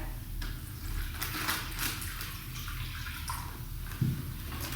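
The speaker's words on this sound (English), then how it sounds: "Water in the plastic bag." Water splashes and gurgles steadily as it pours into a crinkly plastic bag used to weigh down sauerkraut, a continuous rushing wash with a small bump near the end.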